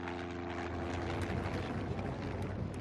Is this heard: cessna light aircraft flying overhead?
yes